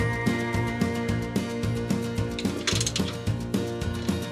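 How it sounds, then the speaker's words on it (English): A ratchet wrench clicks in a steady rhythmic series of strokes, close and clear, while bolting the lower half of a van seat swivel to the seat base in a 2024 Ford Transit 250 camper conversion. "Next, I bolted the bottom half of the swivel to the seat base."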